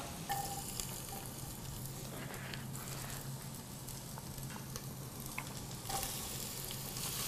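Mixed vegetables stir-frying in two tablespoons of rice bran oil for a chicken noodle soup, with a steady close sizzle and occasional stirring scrapes throughout, no talking.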